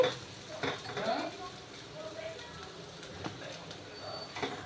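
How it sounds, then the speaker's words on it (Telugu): Bitter gourd curry frying in a pan as it is stirred, soft scraping strokes and light clinks over a low sizzle, quiet and close, with a few irregular louder stirs. "ఇలాగా ముక్క మెత్తబడినంత వరకు వేయించుకోవాలి"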